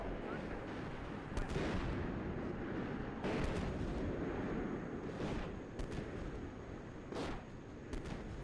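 Artillery fire in the tank simulator Steel Beasts Pro PE, a series of distant booming impacts spaced a second or two apart over a constant low rumble, with faint voice chatter underneath.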